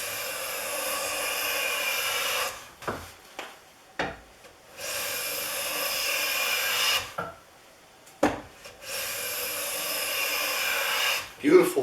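A Bedrock 607 hand plane taking full-width shavings off a wood board, three long close rasping strokes each lasting a couple of seconds, separated by short pauses with faint handling knocks.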